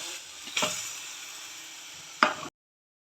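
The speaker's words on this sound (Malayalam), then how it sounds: "ഇളക്കി കൊടുക്കാം ഫിഷ് ഇട്ട് കൊടുക്കാം" Fish pieces drop into a hot pan of sizzling masala for a Kerala-style tuna fish curry and are stirred, giving two sharp clattering bursts over a continuous frying hiss that then cuts off abruptly.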